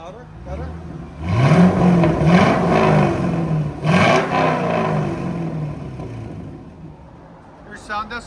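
Loud, close revving from a 1999 Chevy Corvette 5.7L V8 running an H-pipe delete and Borla ATAK exhaust: two strong rises in pitch with a raspy exhaust roar, then a drop back to a burbling idle and a brief squeak at the end.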